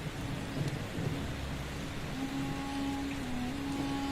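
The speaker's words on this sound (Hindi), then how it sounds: "एक घना और रहस्यमय जंगल था जहां मूसलाधार बारिश अनवरत बरस रही थी" Heavy rain falls steadily in a dense, misty forest, a continuous loud wash of downpour with low thunder rumbling underneath throughout.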